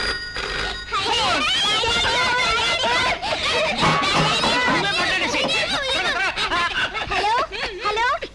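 A telephone rings in a Telugu comedy film scene, its tone mixed in with snickering laughter and excited voices that carry on throughout.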